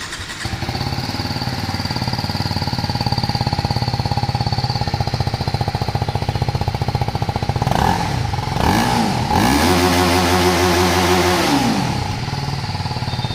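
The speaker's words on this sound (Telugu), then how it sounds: "సో దీని యొక్క ఎగ్జాస్ట్ సౌండ్ ఏ విధంగా ఉందో ఒకసారి చెక్ చేద్దాం" A TVS Apache RTR 310 motorcycle idles with a loud, steady exhaust burble, then is revved several times in quick rising-and-falling sweeps before easing back to idle, close and with no talk.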